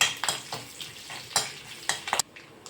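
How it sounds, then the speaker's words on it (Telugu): Mustard seeds, garlic and curry leaves fry in hot oil in a kadai for tomato rasam, with a soft steady sizzle and a series of sharp spoon scrapes and clinks against the pan, fairly close. "కొద్దిగా ఆవాలు, తెల్లగడ్డ, కరివేపాకు వేసేసి కొద్దిసేపు వేగనిద్దాము"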